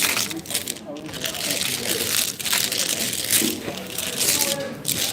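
Mahjong tiles clatter and rattle as they are shuffled across a table in a live game, a dense, continuous clacking close by with brief lulls, while people talk over it.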